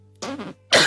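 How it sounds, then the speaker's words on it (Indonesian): Two short throaty coughs in quick succession, close and fairly loud, with a quiet pause between them. "saya batuk ini agak susah"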